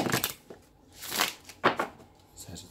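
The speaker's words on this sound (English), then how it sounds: "I'm going to shuffle one more time and then get your cards laid out" Tarot cards shuffled in several brisk bursts of riffling and slapping, close and fairly quiet, with short pauses between bursts and no talk.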